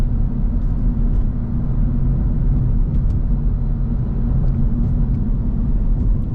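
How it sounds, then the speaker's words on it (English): Steady, loud low engine drone from a 2025 Acura Integra Type S, a front-wheel-drive car, heard from inside as it revs, holding a dense rumble throughout with no talk. "this car is a joy to rev, to redline"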